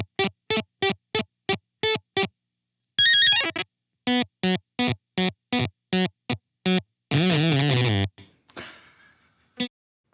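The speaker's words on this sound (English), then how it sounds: "You can get these weird little video game sound effects out of it" A Z.Vex Fuzz Factory fuzz pedal spits out quirky, video-game-like effects: rapid runs of short synthetic bleeps in even rhythm, broken by two sustained warbling, buzzy tones, then a noisy sputter that fades out.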